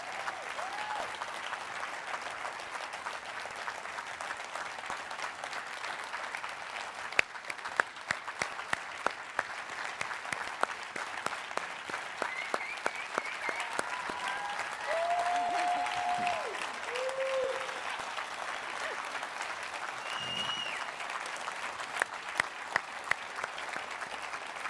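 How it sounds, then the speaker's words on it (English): Audience at a talk on young leaders speaking truth to power breaks into steady applause, a dense wash of clapping from a large crowd that holds at even loudness throughout, with a few sharper individual claps standing out. "I think we should applaud them one more time for their courage."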